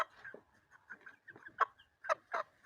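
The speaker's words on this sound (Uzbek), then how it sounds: "Xo'rozni zoti Shamo." Shamo breed rooster gives a series of short clucks and throaty calls, close and fairly quiet, in uneven bursts with brief pauses between them.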